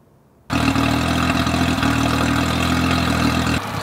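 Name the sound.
speedboat engine running after oil change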